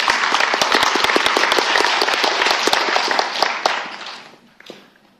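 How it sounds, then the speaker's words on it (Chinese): An audience in a lecture hall gives sustained applause at a talk on traditional Chinese medicine painless tooth extraction, dense close clapping for about four seconds before tapering off to silence. "我们掌声欢迎"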